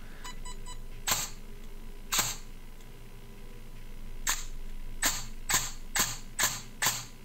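Sharp mechanical clicks of a CYMA MK18 M4 airsoft gun firing, the first three shots without precocking, then a quicker string of six, crisp and close in a quiet room.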